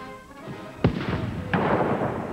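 Ceremonial cannon salute fired in Hyde Park, London, for the Queen: two heavy booming blasts about three-quarters of a second apart, rolling reverberation after each, with a steady crowd or outdoor hum beneath.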